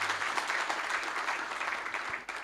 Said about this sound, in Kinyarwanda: mwikomera amashyi